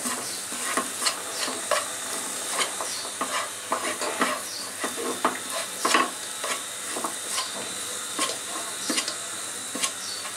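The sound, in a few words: stirring chhana (cottage cheese) in a pan for kachagolla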